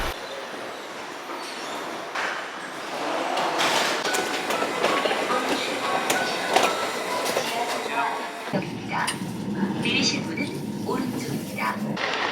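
A Busan subway train rolls along with a continuous rumble and rattle and occasional wheel clatter and squeal, while voices murmur faintly in the carriage.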